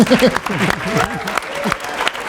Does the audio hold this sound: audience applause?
yes